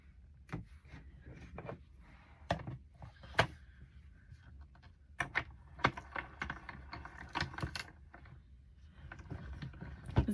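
Spellbinders Platinum Scout die-cutting machine working through a die and plate, giving sharp irregular clicks and clunks with low rumble, close and moderately loud, with no talking.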